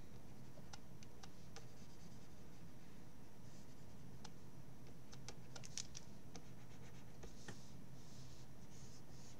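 Pencil sketching lines on paper for a pirate drawing, soft close scratching strokes in short irregular bursts with small ticks between, faint and quiet with no voices.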